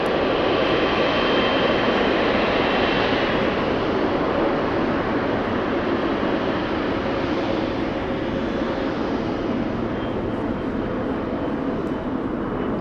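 A freighter aircraft at LAX airport produces a loud, sustained jet engine roar that fills the whole stretch, steady and broadband, gradually easing slightly as it passes.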